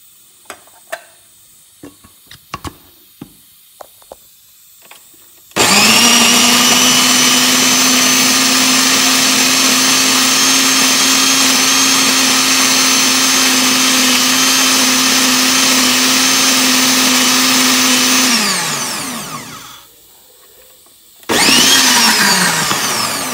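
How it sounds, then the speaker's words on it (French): A kitchen blender purées a cooked chili pepper preparation. A few light clicks come first, then the motor roars loudly and steadily for about thirteen seconds, winds down, and starts again briefly. "Et je vais pouvoir le passer au mixeur."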